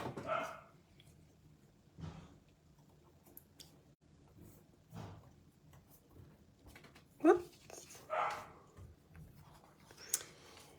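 A dog barks indoors in a few short, scattered bursts at moderate distance, mixed with light rustling and occasional brief speech.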